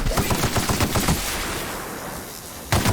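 Rapid automatic gunfire from The Outer Worlds, a dense burst of close, loud shots for over a second, trailing into a noisy fade before one more sharp report near the end.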